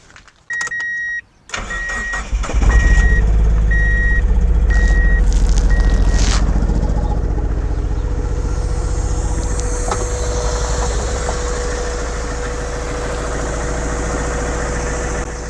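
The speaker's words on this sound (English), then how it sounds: "So the car has started." Mazda Miata NB2 with VVT engine, just converted from automatic to a five-speed manual, cranks briefly amid beeping chimes, fires up and settles into a steady, loud, close idle with slight hesitation on cold, stale fuel.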